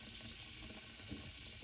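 Vinegar fizzes and bubbles down inside a drain, a faint, steady hiss without talking.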